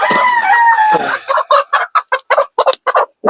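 A young Aseel or Basilan cross gamecock stag crows once loudly and close up, followed by a rapid series of short clucking bursts.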